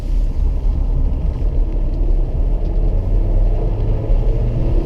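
Car accelerating on a race track during a lapping session, a steady loud engine rumble and road roar holding constant throughout with no talk.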